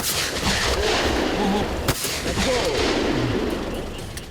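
Sharp gunshot cracks from a wildlife control team hunting water deer in rice fields ring out at intervals over a steady outdoor night background, with a louder single shot near the middle.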